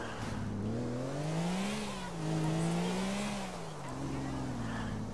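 Car engine in GTA IV revving and shifting pitch steadily under continuous play, loud and close, with a faint voice mixed in.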